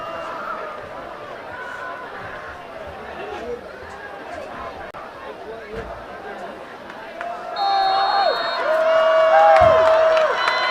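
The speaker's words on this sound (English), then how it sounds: "Really testing the Winterset crowd here, see how long they can yell for." Football crowd at a Winterset versus ADM varsity game yelling and cheering steadily from the stands, swelling louder toward the end, with a whistle-like tone and voices mixed in.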